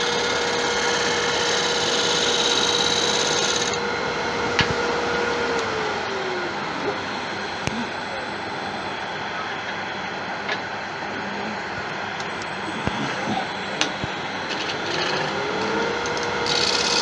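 A gouge cutting the finish pass on a wooden bowl spinning on a lathe, a steady, loud scraping hiss over the whine of the turning machine, with occasional sharp ticks as wood catches, continuous and close.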